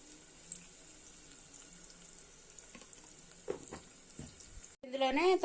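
Tempering for a brinjal curry sizzles softly and steadily in a pan at home, a faint continuous frying hiss with a few small clinks, before a brief voice near the end.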